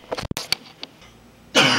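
A few short, sharp coughs from a man close by in a hotel room, followed by a burst of broadband noise near the end.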